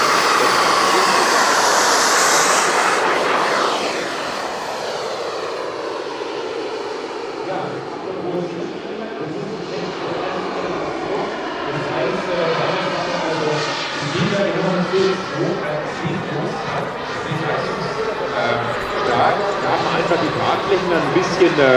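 A giant-scale radio-controlled turbine jet model of a De Havilland DH-112 Venom flies at a jet show, its loud turbine roar sweeping past and fading into a steady, fluctuating whine.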